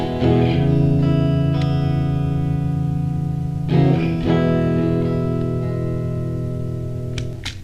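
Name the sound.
audio with reverb effect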